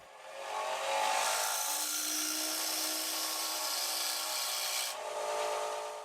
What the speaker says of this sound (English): We'll use some 4/0 steel wool and we'll scrub off the tool rest at the bottom of our tool.